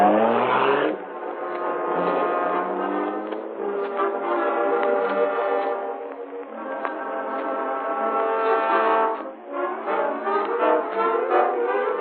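Car driving off as a sound effect in an old radio drama, its engine revving up and holding a droning, band-limited tone for several seconds with brief shifts in pitch.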